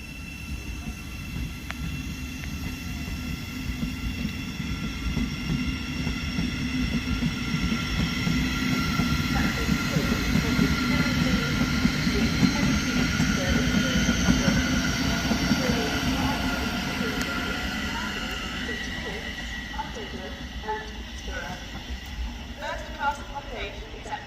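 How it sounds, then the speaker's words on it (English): A Thameslink Class 700 electric unit, number 700-131, pulls out of Hitchin station on the East Coast Main Line with a Brighton service. A broad, steady rumble of wheels and motors swells, then gradually fades, with faint tonal whine above it. "leaving now, 700-131 with the Thameslink service to Brighton"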